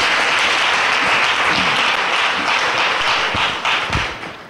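A church congregation applauds at a September 2017 service, loud steady clapping that fills the room and fades out toward the end, with no talking over it.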